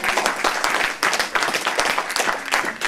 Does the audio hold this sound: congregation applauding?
yes